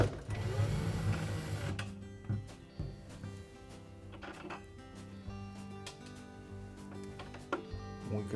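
A 1/4-inch hex head screw is turned out of a refrigerator shelf bracket inside a GE fridge, producing quiet, close ratcheting clicks and small metallic taps in an irregular series, with brief scraping bursts.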